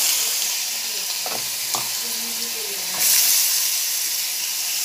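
Lentil dumplings (bori) fry in hot oil for a radish and mustard dish, a constant close sizzle with a few stirring knocks and a brief surge of hiss partway through.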